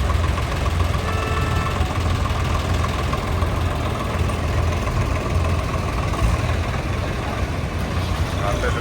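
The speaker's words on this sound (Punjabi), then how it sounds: "ਟਰੈਕਟਰ ਆ ਰਹੇ ਆ" Steady low engine rumble of tractors idling nearby, continuous throughout with a faint knocking texture and some indistinct voices in the background, at a farmers' protest gathering before a tractor road march.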